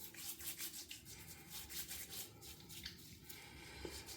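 Shaving lather being rubbed into a wet face with a 24mm synthetic shaving brush and Geo F Trumper sandalwood cream, giving a steady, soft, close swishing and rubbing texture that continues without a break and without talk.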